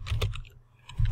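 Someone types a prompt on a computer keyboard, with a quick cluster of close keystrokes, a brief pause, then more tapping, and no talking.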